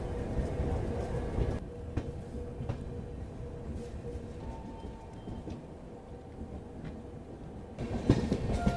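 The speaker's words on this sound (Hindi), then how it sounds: "ये हमारी ट्रेन अलग हो रही है बनारस की तरफ जाने वाली लाइन से" Suhaildev Express passenger train running on rails in thick fog, a steady low rumble of wheels and carriages with faint clicks, growing louder and rougher near the end.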